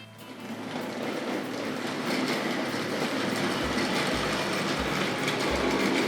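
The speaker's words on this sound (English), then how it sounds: "Lovely rattle coming off those wagons." A Tri-ang Railways B12 model locomotive hauls rattling wagons and a brake van around a curve of track, a continuous close clatter and rumble with rhythmic clicks from the wheels.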